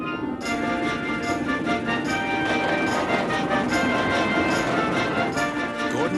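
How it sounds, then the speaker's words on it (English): Gordon the steam engine and his train rushing past on the rails, a loud, continuous rumbling roar with rhythmic clattering beats and sustained ringing tones, a voice faintly present. "Gordon's train rocketed past and was gone."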